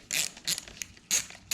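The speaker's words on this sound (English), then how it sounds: "Now I just have to loosen this bolt here, and you just have to loosen it a few turns." A bolt on a Suzuki GSX-R Hayabusa motorcycle bracket being loosened a few turns, giving four short, close metallic ratcheting bursts separated by brief pauses, with no talking.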